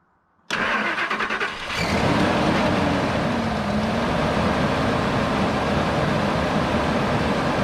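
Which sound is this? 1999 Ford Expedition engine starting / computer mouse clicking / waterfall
1999 Ford Expedition engine starting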